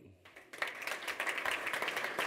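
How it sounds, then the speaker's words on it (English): A stage audience applauds as a guest is welcomed on stage at an entrepreneurs' day event. Dense clapping swells in after a quiet start and carries on steadily at moderate distance. "a big applause for Henry Lewin"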